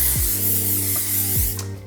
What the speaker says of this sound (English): I'm gonna lightly spray those curls.